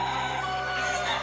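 Native country chickens at a poultry farm create a dense, constant din of clucking and crowing, loud and close, filling the whole stretch without pauses or talk.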